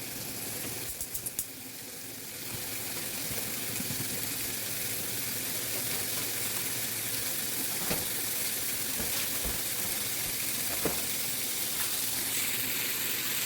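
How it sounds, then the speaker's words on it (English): Pork fries in a pan with a steady, close hiss and crackle that runs throughout, broken now and then by small clicks and pops. "Okay, so pork is cooking"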